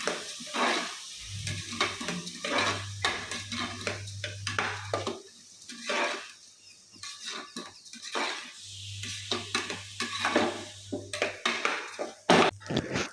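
Washed rice being sautéed in ghee for sweet pongal in a pressure cooker: soft, fairly faint sizzling and gritty scraping as a spoon stirs, with a low hum running under parts of it and no talking.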